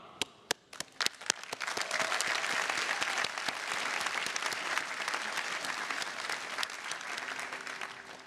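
An audience at the Harvard 2024 commencement ceremony in a large theater claps. A few isolated claps come first, then the clapping swells into broad, sustained applause heard from a distance.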